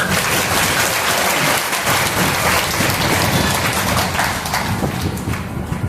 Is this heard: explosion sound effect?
no